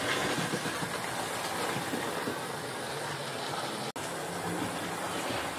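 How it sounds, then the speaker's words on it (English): A Hornby GWR model express passenger locomotive running along a model railway layout, giving a continuous close rumbling whir with faint rhythmic clicking of wheels on track, steady and unbroken apart from a brief dropout. "we can see this locomotive once more flying through the level crossing"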